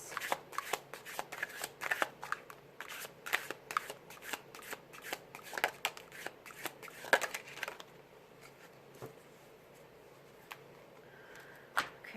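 A deck of tarot cards is shuffled close by in a long run of rapid riffling flutters, then settles into a few sparse taps and quieter handling near the end.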